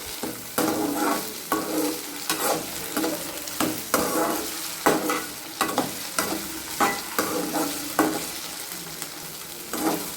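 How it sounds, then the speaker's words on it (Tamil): Potatoes fry in a pan for an egg and vegetable Maggi, a continuous sizzle punctuated by frequent, rhythmic scraping stirs of a spatula close up. "இப்போது உருளைக்கிழங்கு மட்டும் சேர்த்துக்கிடுதேன் உருளைக்கிழங்கு கொஞ்சம் நல்லா வதங்கட்டும்"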